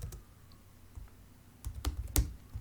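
Sparse keystrokes on a computer keyboard, quiet at first and then a short, firmer run of clicks close by, with no one talking.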